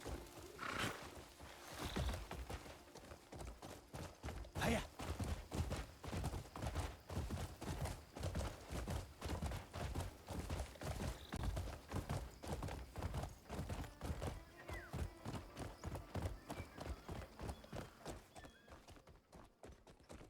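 A horse gallops at a steady pace in the video game Crimson Desert, with even, rapid hoofbeats close and clear and a brief whinny early on, fading slightly at the end without talking.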